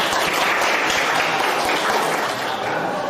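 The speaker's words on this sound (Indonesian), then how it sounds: "Ya, tepuk tangan untuk Mas Salim." A class of students in a classroom breaks into a brief burst of dense, steady applause, loud and close, holding evenly for a few seconds.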